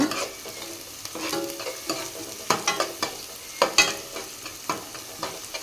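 Onions and cashews fry together in a pan, a low constant sizzle broken by repeated scraping stirs and sharp spatula taps against the pan, close and fairly loud, with no voices.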